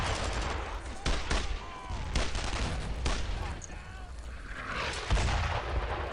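Weapons fire in a World War II video game during a night patrol: repeated gunshots and booming blasts crack over constant loud battle noise, with a voice calling out in the middle.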